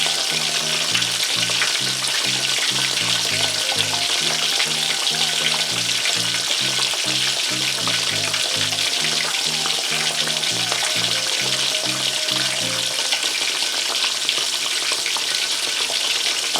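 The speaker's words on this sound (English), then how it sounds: "when I've finished frying these pieces of catfish" Steady crackling sizzle of catfish frying in hot oil, continuous and close, with a faint rhythmic tapping in the background for most of it.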